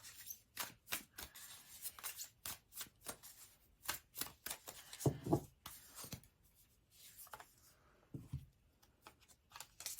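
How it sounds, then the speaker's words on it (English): Tarot cards are riffled and shuffled in quick repeated bursts of papery flicking and slapping, close up, with brief pauses between shuffles and no voices. "I'm going to do a couple of shuffles"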